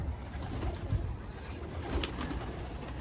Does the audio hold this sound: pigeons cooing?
yes